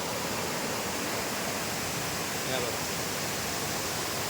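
Steady, dense roar of falling water, constant and unbroken throughout, like a waterfall heard from nearby.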